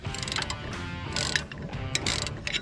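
A wrench ratchets and clicks against a fastener on the steering assembly of a John Deere D Series riding mower, with short metallic clacks and scraping close by.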